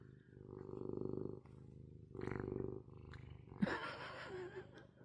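A pet cat purring close by in loud rhythmic bursts, followed by a brief chirping vocalization at the end.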